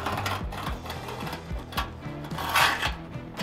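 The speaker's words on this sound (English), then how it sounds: "So now I can take my scribe and then I can make sure it's nice and tight. I can then make a nice crisp line." A steel scribe scratches a crisp line across a sheet metal panel on a Porsche 928 widebody flare, making a close, steady rasping scrape with a rapid mechanical texture throughout.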